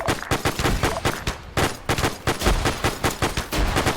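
Cannon and gunfire crack in a WWII video game battle at Henderson Airfield, with loud, rapid bursts of shots in quick succession and only short gaps between volleys.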